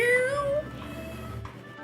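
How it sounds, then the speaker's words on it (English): A cat meows repeatedly from behind a closed door, a couple of muffled rising cries followed by a fainter one, quiet and slightly distant. "I don't know if you can hear him meowing through the door."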